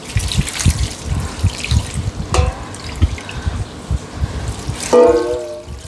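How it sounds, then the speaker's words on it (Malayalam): Water is poured into a pot of chicken for yakhni broth, making a splashing trickle with a couple of ringing metallic clinks from the pan, no talking. "ഇനി കുറച്ച് വെള്ളം ഒഴിക്കും"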